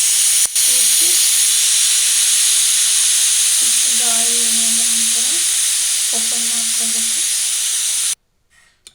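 A pressure cooker of veg pulao lets off a loud, steady hiss of steam for about eight seconds, with low tonal hums rising briefly twice before the hiss cuts off abruptly.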